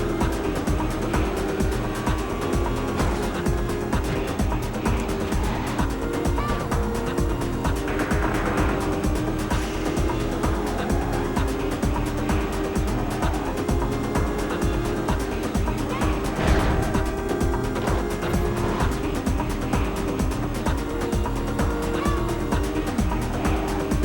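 A motorcycle drifts in the racing game Midnight Club 2, its engine droning continuously at a steady level with faint tire squeal mixed in throughout.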